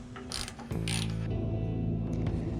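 Metal clicking and ratcheting as a nut is worked off the bottom of the carburetor bowl on a 40-year-old LongLife lawn tractor, a quick burst of close mechanical clatter followed by steady tool noise.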